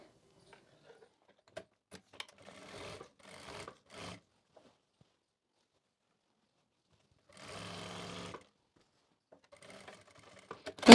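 A sewing machine stitches a belt along the length of a sari in short, faint bursts separated by quiet pauses, with one longer run in the middle and small handling clicks around it.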